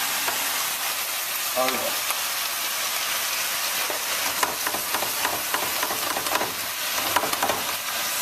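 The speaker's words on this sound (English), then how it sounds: "mix the lamb on and just start searing that lamb" Lamb searing in a hot pan with a loud, continuous sizzle and scattered crackles and pops, while a voice speaks briefly.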